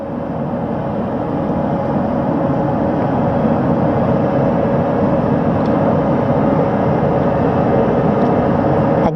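Helicopters winding down on the flight deck of the USS John P. Murtha after a crew recovery at sea, a loud continuous engine and rotor drone with steady hum that holds throughout.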